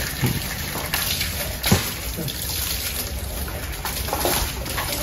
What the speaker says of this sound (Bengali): ভালো করে পানি মার